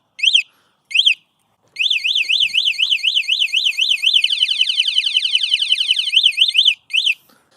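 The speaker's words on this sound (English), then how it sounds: "this alarm is incredibly loud, as I'll just show you quickly here" A loud electric bike anti-theft alarm on an Electric Bike Company Model E wails: two short warning bursts, then a long continuous warbling siren that sweeps rapidly, ending with two more short bursts.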